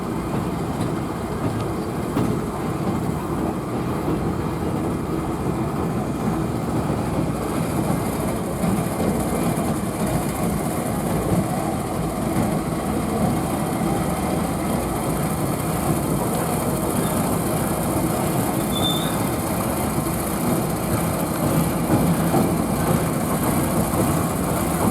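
A passenger train at a railroad museum in Chattanooga, Tennessee, idles with a loud, steady engine rumble and rail noise that stays constant and close throughout, with no talk.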